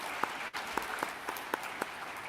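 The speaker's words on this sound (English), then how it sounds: "Let's give another round of applause and thank you to all of our speakers this morning." A conference crowd applauds its morning speakers; fairly quiet, sparse clapping with a few distinct individual claps standing out over a soft background wash.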